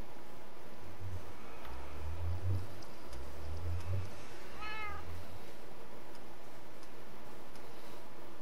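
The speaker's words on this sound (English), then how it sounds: "There's a cat." Minecraft cat meowing on a game server, one short high meow amid a steady ticking like a clock, with low soft thumps underneath.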